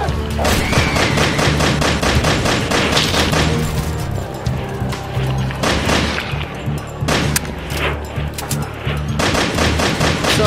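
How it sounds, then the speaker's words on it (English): Rapid gunfire in the Sharknado VR game, loud and nearly continuous bursts of shots with booms layered over a dense, busy soundtrack, no talking. "So I am shooting at sharks."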